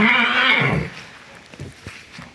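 A loud, close whinny from a horse as a mare arrives rings out briefly and fades, followed by a few soft thuds and movement.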